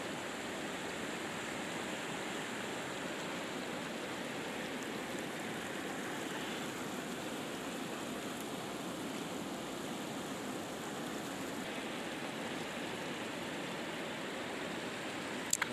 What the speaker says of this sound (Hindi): तो ये है दरिया स्वात, और मैं इसके किनारे बैठ गया हूँ